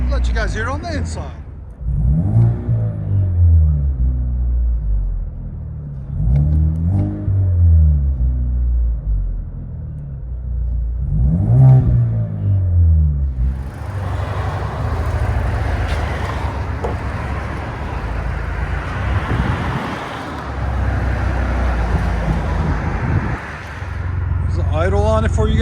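Deep, burbling exhaust of a 2016 Chevy Camaro Turbo fitted with Dynomax and LCGP exhaust, heard from inside the cabin as a steady low rumble with periodic revving swells, then a broader, rougher roar; a voice talks over it.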